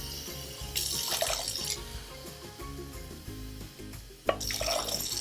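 Water pours from a tap into a cooking pot for quinoa, a bright splashing gush heard in two bursts over a faint low background hum.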